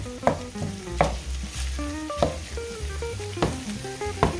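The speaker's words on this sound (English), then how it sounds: "we'll work on sauteing the onions and the green peppers" Onions and green peppers sauté in a pan, soft sizzling broken by several distinct clanks and scrapes of a utensil stirring, close by, with faint tonal background sound and no talk.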